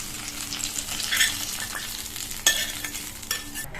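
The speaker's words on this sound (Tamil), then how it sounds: "தாளிப்பு சேர்த்துட்டு நல்லா ஒரு தடவை இந்த மாதிரி கலந்து கொடுத்துருங்க." Fried onion tempering being stirred into cooked spinach greens in a pan, a soft continuous sizzle with a few sharp spatula knocks and scraping stirs, no one talking.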